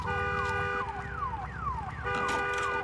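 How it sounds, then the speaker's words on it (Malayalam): In the video game Days Gone, a vehicle horn blares continuously as a rising and falling alarm-like wail, loud and steady with no talking over it. "എന്താണിത്? ഇത് ഹോണോണായല്ലോ."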